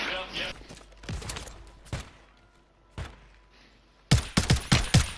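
Gunfire in a video game shooter, a few sharp shots early on, then a quick burst of rapid cracks near the end, with game noise in the background.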